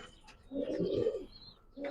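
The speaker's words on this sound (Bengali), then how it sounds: "অরিজিনাল এটা মাদ্রাজি কবুতর।" A white Madrazi pigeon at a bird sale gives a single soft, low, rolling coo at close range in a quiet spot, with faint chirps before and after.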